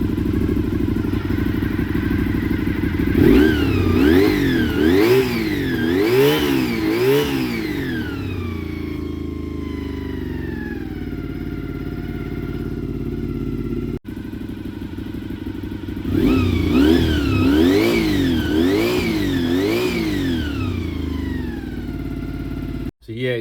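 Honda VFR400 NC30 four-cylinder motorcycle under restoration, blipped in several sharp rising revs that fall back to a lumpy idle, then revved again, close and loud.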